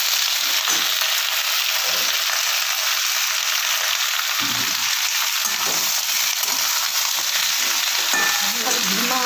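Flat beans and brinjal fry with onion and green chillies in a hot pan, a loud, close, continuous sizzle with occasional stirring bursts and no voices.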